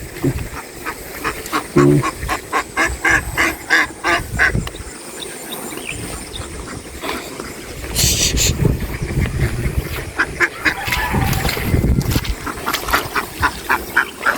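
Domestic ducks crossing a strong river current, rapid repeated quacking and honking from several birds over a constant rush of flowing water, loud and close.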